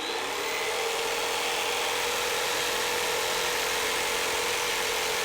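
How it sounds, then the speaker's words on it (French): A jigsaw cuts wood in a carpentry workshop, its blade buzzing in a steady, loud, continuous drone with no pauses from start to finish. "ce que je fais, c'est que je mets la scie en route, j'approche l'arrière de la lame,"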